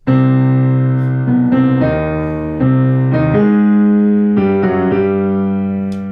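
Solo piano plays a slow phrase of ringing chords and octaves, each note held and blending into the next, close and fairly loud.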